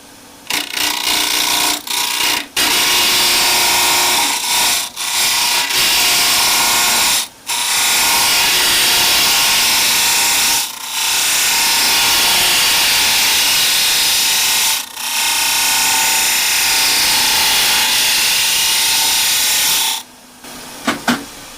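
Wood lathe spinning while a wooden quilter's binding barrel is hollowed, a continuous bright scraping hiss from the cutting tool interrupted by several short pauses, close and loud.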